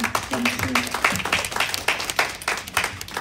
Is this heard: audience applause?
yes